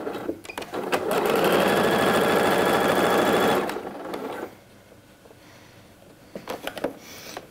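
A sewing machine runs in one sustained, loud burst for about three seconds, stitching a coat's shoulder seams end to end, then stops, leaving quiet handling noises.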